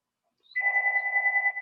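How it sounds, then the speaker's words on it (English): A mobile phone ringtone starts after a short silence, a clean sustained electronic two-tone ring heard up close with no voices. "I could volunteer to turn my phone ringer off."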